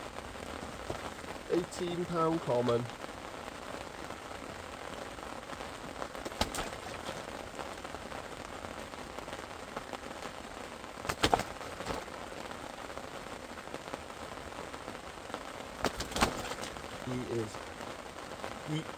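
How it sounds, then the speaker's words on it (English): Pouring rain at a lake during a carp fishing session, a steady patter of drops on surfaces throughout, with a few louder taps and someone speaking briefly. "we've had one, another one in the pouring rain"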